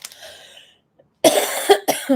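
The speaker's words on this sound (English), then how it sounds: "Sorry about my cough, you guys." A couple of sharp, close coughs after a brief quiet stretch, with a fainter breathy sound at the start.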